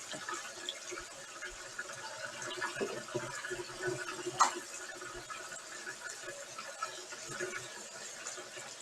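Hot tap water, at about 130 degrees, runs steadily over an open jar at a kitchen sink, giving a close, continuous splashing rush with small knocks and no voices.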